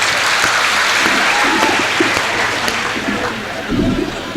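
An audience at a Hindi kavi sammelan poetry gathering breaks into sustained, loud applause that runs steadily throughout the clip, with a brief swell near the end.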